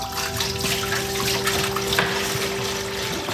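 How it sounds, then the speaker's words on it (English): Fresh sea water runs steadily into a pot for making salt, a continuous splashing pour with a faint hum underneath, no voices. "Pour the water in the pot and boil it down."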